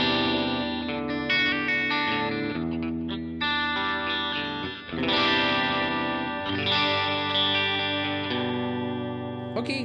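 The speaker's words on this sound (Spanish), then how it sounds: "tengo un poco de overdrive" An electric guitar played through a Cerberus pedal on its AC tone with some overdrive rings out in sustained, slightly distorted chords and melodic notes, close and clear, with no talking.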